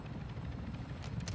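A helicopter in the Call of Duty MW2 DMZ game, a steady low rotor drone that holds through the moment, with brief brighter bursts of gunfire-like noise near the end.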